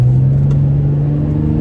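Deep, steady drone of a Hyundai Genesis Coupé's 3.8-litre engine as the throttle opens, loud and close, a low humming rumble with no talk over it.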